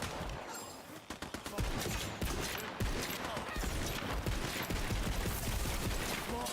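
Rapid weapon fire in Tiny Tina's Wonderlands: a dense, continuous stream of loud shots after a few spaced opening rounds, with game effects layered over it.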